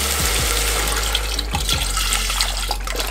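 Water pours from a tap or container into a soup pot of plain vegan vegetable soup with low-sodium veggie broth, a steady, close, fairly loud splashing gush running without talk.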